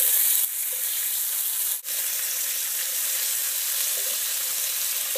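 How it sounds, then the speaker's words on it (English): Meat searing in a hot pan makes a bright, steady sizzle with fine crackle, close and constant apart from one brief dip, with no one speaking. "it's already changing colors and searing on the end."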